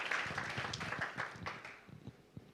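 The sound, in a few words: church congregation applauding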